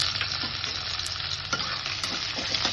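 Chopped onions sizzle steadily in hot oil with whole cumin in a pan, a constant hiss broken by a few sharp clicks of a spatula stirring.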